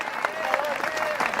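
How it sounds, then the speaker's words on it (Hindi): Clapping from the audience at a Hindi comedy poetry show, a short burst of brisk, crowded hand claps at moderate loudness, mixed with some crowd murmur. "पारस जी ने ताली बजा दी"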